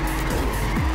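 A car drifts in the Trackmania Turbo racing game: a loud engine drone with a tire squeal sweeping up and down twice within a second, close and continuous.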